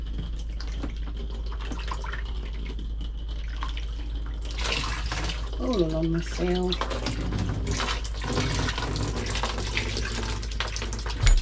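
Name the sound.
water running from tap into motorhome shower tray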